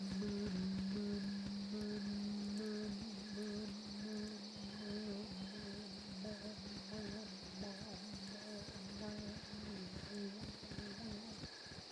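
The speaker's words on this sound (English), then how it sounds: "What a cricket sound" Crickets chirp in Baldur's Gate: Enhanced Edition, a steady, faint, continuous trill of insects with a constant high whine and a low droning hum beneath, no voices over it.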